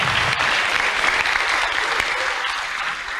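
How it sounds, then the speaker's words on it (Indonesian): Audience applause for Pak Mahfud at a public talk, a thick even wash of many people clapping, loud and close, holding steady and easing slightly at the end. "Baik, tepuk tangan untuk Pak Mahfud."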